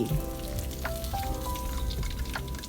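Thai-style marinated pork neck deep-frying in hot oil, a steady dense crackle and sizzle with faint bubbling, continuous and close, with scattered pops and light kitchen clinks over it and no talking.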